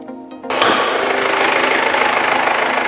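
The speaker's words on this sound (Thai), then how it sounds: "ตัวนี้ก็จะเป็นเครื่องยนต์ดีเซลนะครับ เป็นดีเซลไฮบริดนะครับ" A Mercedes C300 Bluetec Hybrid diesel engine starts up and runs with a steady, loud clattering idle heard close by.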